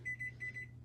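Kitchen oven timer beeping in a quick series of short, bright electronic tones, about four pulses in under a second, close and clear in a quiet room.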